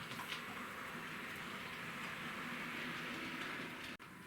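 A Bachmann Class 40 model diesel locomotive, number D395, creeps very slowly along model railway track. It makes a faint, continuous whirring rattle that ends in a brief click or drop near the end, with no voices.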